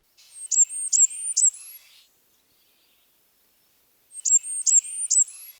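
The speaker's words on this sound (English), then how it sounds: "Blackburnian warbler. It's got a couple of songs, but the one I hear most often is the one that is a squeaky wheel just slightly rising in pitch as it goes." A Blackburnian warbler sings its thin, high squeaky-wheel song, a short series of three or four sharp notes climbing slightly in pitch, heard twice with a silent gap between, clear and fairly close with no talking.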